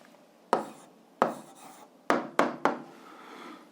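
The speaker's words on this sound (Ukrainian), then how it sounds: "записуємо відповідь, пишемо відповідь" An answer to a school physics problem being written down: five short, sharp scratchy strokes come in uneven bursts, close and fairly quiet, with no talking.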